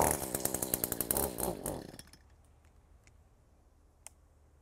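An Echo small engine with low power that will not rev is started after a new spark plug goes in: a short rapid sputtering run that dies after about two seconds, leaving near silence broken by a few faint clicks.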